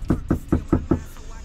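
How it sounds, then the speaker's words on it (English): Five firm knocks on a door for an Instacart delivery, evenly spaced and close, then quiet. "It says knock on the door."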